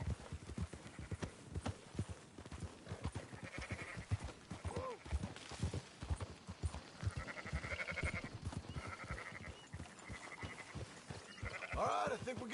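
Sheep bleat amid steady clip-clopping horse hooves in Red Dead Redemption 2, several wavering calls over a rhythmic trot, fairly close, with faint speech in the background.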